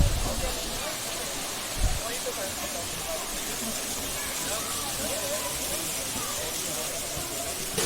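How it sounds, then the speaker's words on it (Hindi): Bhagsunag waterfall near McLeodganj pours steadily, a constant broadband rush of falling water that fills the scene at close range, with a couple of brief low thumps early on and no talking over it. "झरने के पानी की आवाज आप सुन सकते हैं।"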